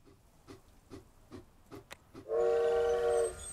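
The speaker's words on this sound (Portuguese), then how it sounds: "acho que o primeiro trem tá chegando" A train in the Railroad Corporation video game pulls into a station. A run of evenly spaced rhythmic clacks is followed by a loud, sustained whistle-like horn lasting about a second.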